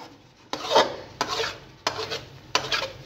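Multani sohan halwa being stirred and scraped in a pan as it roasts and darkens: four regular, close rasping strokes, each a scrape across the pan bottom with a faint sizzle underneath, no talking.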